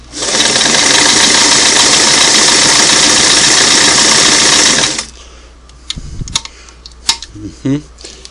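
A Singer Model 338 sewing machine runs a single-needle zigzag stitch in a loud, rapid, continuous whirr for about five seconds, then stops, leaving faint clicks and handling noises.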